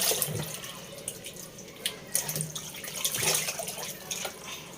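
Tap water runs and splashes as food is rinsed in a container at a home sink, an uneven wash of spatter with a few louder bursts and knocks, no voices.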